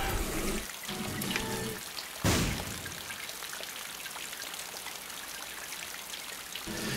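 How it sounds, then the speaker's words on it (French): Rain in The Binding of Isaac Repentance video game, a steady hiss of falling drops and trickling water with a brief louder splash, moderately quiet and without talk. "Mon dieu, il pleut"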